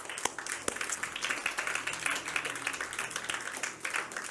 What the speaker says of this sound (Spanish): ¿Quién le puede dar un aplauso al Señor?